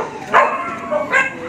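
A large dog gives two short yelping barks close by, spaced apart over a steady outdoor background.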